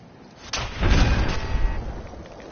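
A turret fires in a PS4 video game, producing a sudden heavy boom that swells into a loud, rumbling blast and then slowly fades over a couple of seconds.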